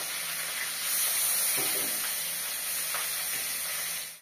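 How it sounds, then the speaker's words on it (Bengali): Fish fry together in hot oil in a rural village kitchen, giving a loud, continuous sizzle and hiss with a few faint clinks and stirs. "মাছগুলো সব ভাজতে বসিয়ে দিচ্ছি, আর সবকটা মাছই কিন্তু একসঙ্গে দেবো।"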